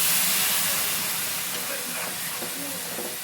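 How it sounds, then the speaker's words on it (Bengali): Water poured into a hot pan of fish roe curry with potatoes bursts into a loud steamy hiss that slowly fades into softer bubbling and sizzling. "আমি একটু জল দিয়ে দিলাম"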